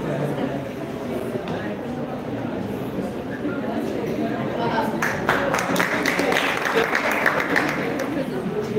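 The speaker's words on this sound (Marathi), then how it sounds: "टाळ्या जरा हळू वाजवा" Audience clapping at a Women's Day function, steady and fairly loud under a voice on a public address, with the applause growing busier toward the end.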